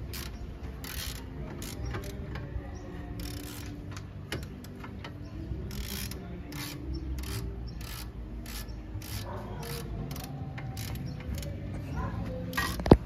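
A ratchet wrench tightening a camber bolt during car suspension work, ball joint and lower control arm replacement: a series of quiet, rapid rasping clicks in short bursts over low background noise, ending in a sharp knock.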